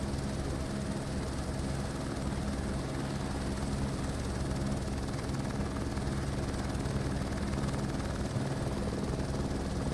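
Helicopter rotor and engine noise from the Microsoft Flight Simulator 2024 game, a steady loud drone with a low thumping pulse holding constant throughout, with no talk.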